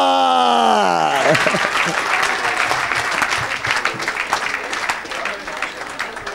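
Church congregation bursting into loud, sustained applause right after a brief sung or called-out voice, with dense clapping and crowd noise filling the room for several seconds.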